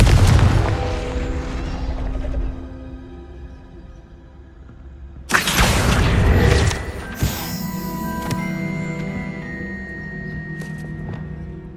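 A Confringo fire spell bursts into a loud, booming explosion in Hogwarts Legacy on PS5, with heavy blasts landing over a dense rumbling game soundscape and further crashes following.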